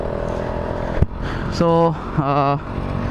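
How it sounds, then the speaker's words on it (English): A restored two-stroke motorcycle engine runs at a steady idle, a continuous close buzzing drone, while someone talks over it. "Lovely sound of two-stroke"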